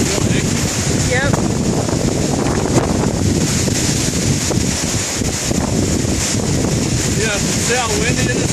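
Strong gusts from a dust storm east of Inman, Kansas batter a car, making a loud, continuous roaring rush that barely lets up, with muffled voices occasionally underneath.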